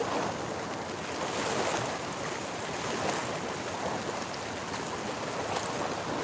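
Choppy Ohio River water slaps steadily against a fishing boat, a dense, continuous wash of waves and wind noise close to the microphone with no pauses.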